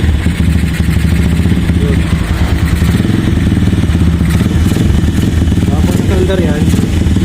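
A KRY 200cc motorcycle engine runs at a steady idle with a low, continuous rumble and some mechanical clatter close by, while someone talks over it.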